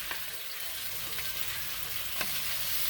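Saltfish hits a hot pan and sizzles steadily, a constant bright frying hiss with a few faint clinks and stirring noises, no voices.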